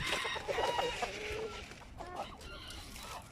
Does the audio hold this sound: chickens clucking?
yes